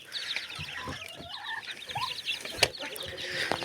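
Chickens crowd around a feed bowl, clucking and chattering in quick overlapping bursts close by, with light scuffling and an occasional sharp knock among them.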